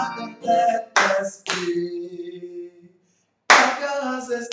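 Hands clap in sharp bursts during a lively action song, with singing voices dominating between the claps and a short silent gap midway.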